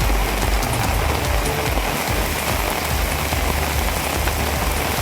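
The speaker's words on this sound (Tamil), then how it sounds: "சென்னை மாநகர் மற்றும் புறநகர் பகுதிகளில் விட்டுவிட்டு மிதமான மழை பெய்தது." Moderate rain pours steadily over Chennai's city and suburbs, a dense, continuous hiss of drops hitting surfaces, close and fairly loud with no voices.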